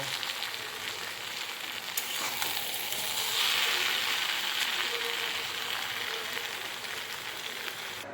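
Mourala fish chochchori frying in a crowded pan, giving a steady, close sizzle that swells slightly midway, with faint stirring scrapes mixed into the continuous crackle.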